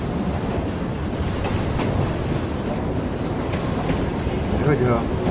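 A train rolls along its rails as a steady, dense roar and rumble with faint rhythmic clatter. It is heard from inside or close by, with faint voices buried in the noise.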